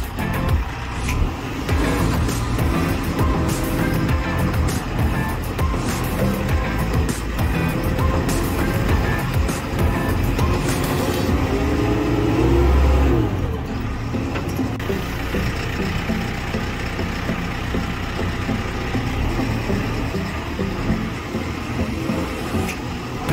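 A JCB 3CX backhoe loader's diesel engine runs continuously for over twenty seconds as the machine is driven up onto a hauling truck, a steady close rumble with clanks and shifts in engine note throughout.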